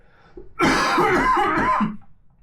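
A harsh, drawn-out coughing fit close to the mic, one rough burst lasting over a second, with quiet breathing before and after.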